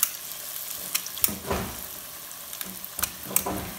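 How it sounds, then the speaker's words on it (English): Homemade Frito-style corn chips fry in hot grease, giving a steady soft sizzle with scattered crackles and pops, close and fairly quiet, with no talking. "Let them fry up like that."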